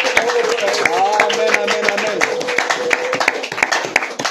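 A church congregation claps and applauds for Jesus, bursts of sharp hand claps mixed with voices talking and calling out close by.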